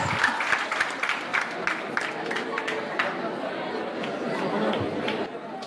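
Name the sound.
audience clapping for debate speaker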